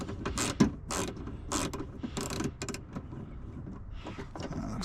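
Wrench work loosening the window regulator bolts inside the passenger rear door of a 2010 Ford Escape XLT, with repeated mechanical ratcheting, creaks and clicks at close range and one sharp knock early on.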